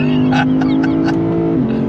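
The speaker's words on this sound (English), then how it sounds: "Listen to that engine." A 2024 Lexus IS 500 F performance sedan revs hard toward its redline on a twisty road, with a loud, close engine note holding a high steady pitch and then dropping briefly near the end.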